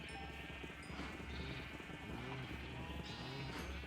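Sheep bleat repeatedly in a video game, several overlapping wavering calls over a steady low background hum, fairly faint and continuous.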